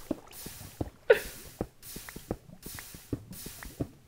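Soft bursts of hissing sizzle recur about every second, with small pops and crackles between them, like lava meeting water in a game.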